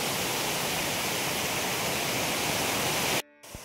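Mawsawa waterfall in Meghalaya gives a loud, unbroken roar of rushing water that cuts off abruptly near the end.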